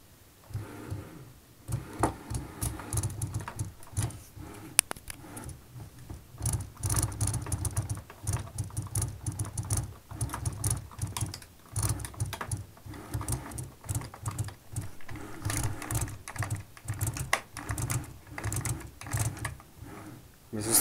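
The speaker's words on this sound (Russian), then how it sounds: "Если слышно, только как вот эти красные кнопочки гремят." The red buttons on a Logitech G27 steering wheel rattle with a rapid, irregular clicking and clattering that runs steadily throughout, close to the microphone, with no talking.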